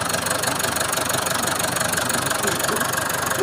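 A Ford / Mazda BT-50 pickup's diesel engine idles with a steady, even knock that repeats rapidly and stays close and loud throughout, with no voices over it.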